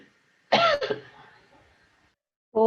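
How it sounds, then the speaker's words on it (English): One harsh, close cough with a short rasping tail, then silence before a brief voiced sound at the very end. "I can't even cough properly."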